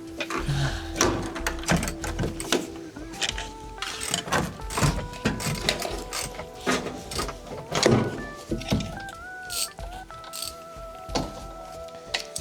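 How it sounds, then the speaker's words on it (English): Hand ratchet tightening rusted screws on a ZAZ car body under restoration: rapid, repeated clicking and ratcheting strokes come up close, with some tonal squeaks in between. "I found a ratchet that only tightens the screws."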